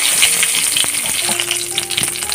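Asafoetida and two bay leaves sizzling in hot oil in a pan, a loud, close, steady frying hiss with small crackles and a faint utensil clink.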